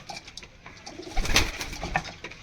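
Pigeons of the Kalduma and Kamagar breeds coo softly in a loft, several low, rounded calls rising and falling over a faint background with no talk.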